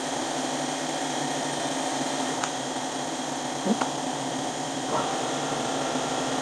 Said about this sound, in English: First step, open the vacuum.